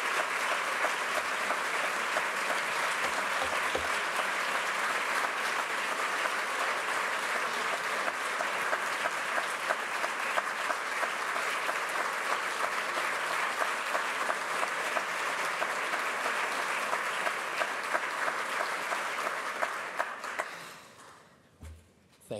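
A large audience at Rideau Hall applauds Martin Short in a long, steady, dense wave of clapping that fades out near the end.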